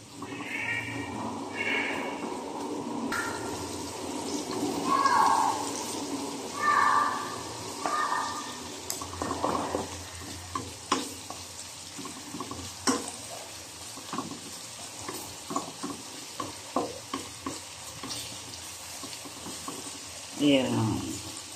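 Garlic and onion sauté in oil in a pan for a Filipino pork-and-eggplant bagoong dish, giving a gentle, low sizzle with repeated stirring clicks and scrapes, while a voice is briefly heard early on.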